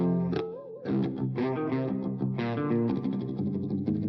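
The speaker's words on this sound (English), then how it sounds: "let's add some reverb here just for the sake of this" Clean guitar tone with reverb through a Bogren Digital amp sim, the Ampknob bundle. A sustained run of chords and notes plays alone, loud and continuous, with a brief dip near the start.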